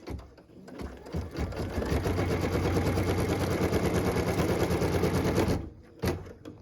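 Embroidery sewing machine stitching a tack-down line on a quilt block: a steady, loud, rapid mechanical rattle and hum running about five seconds, starting and stopping abruptly, with no talk.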